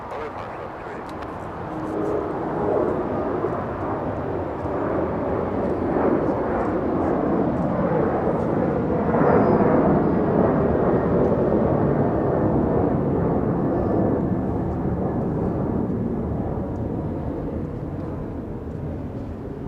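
An airliner climbs out on departure from Los Angeles International Airport, its broad, steady jet roar building to a peak mid-clip and then slowly fading, with a person talking over it at times.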